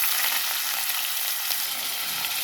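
Chopped onions fry in a pan for a country chicken curry, giving off a steady, dense, bright sizzle that holds evenly throughout with no voices.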